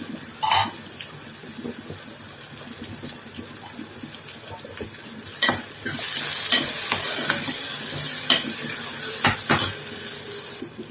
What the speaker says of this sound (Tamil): நல்லா எண்ணெய் பிரிஞ்சு வதக்கும் நல்லா வதக்கிக்கலாம்